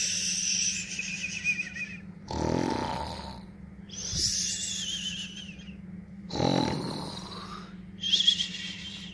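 A storyteller imitates a sleepy bear snoring, with about three loud, drawn-out snore sounds spaced a few seconds apart, each followed by breathy hissing, close and alone with no other talk.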